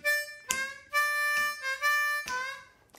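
A harmonica plays a short bluesy phrase over the four chord, starting on the one blow, in several bent, sustained notes separated by brief breaths, close and clear with nothing else around it.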